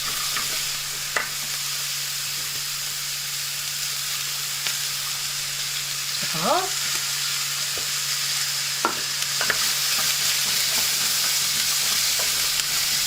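Vegetables for a Guinness hot pot sizzling in a pan, a steady close frying hiss that runs throughout with a few brief stirring clinks and scrapes.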